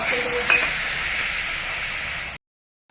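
Tomato sauce and two spoons of water hit hot caramel in a pan, bursting into a loud, steady sizzling hiss with a brief clink early on, then cutting off abruptly to silence.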